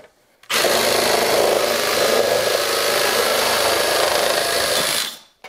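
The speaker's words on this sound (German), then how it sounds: "Ihr habt einfach so einen Aufsatz und könnt Blech damit schneiden." Cordless drill fitted with a DeWalt DT7062 sheet metal shear attachment cutting sheet metal, a loud continuous motor whir with a gritty cutting rasp, starting abruptly and stopping after about five seconds.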